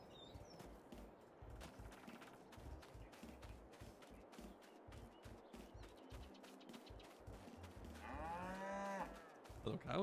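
Cows moo on a farm in the Farming Simulator 22 video game, repeated lowing calls spread across the stretch over rustling ambient noise, with a louder, closer moo near the end.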